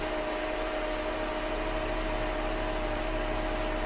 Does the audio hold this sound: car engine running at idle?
yes